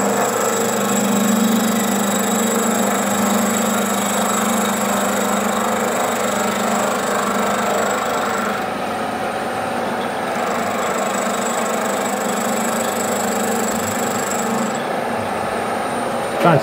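A carbide cutter machines a steel crosshead for a 7 1/4 inch gauge steam locomotive, a steady loud motor drone with a grinding, chattering cutting noise running throughout, close and continuous.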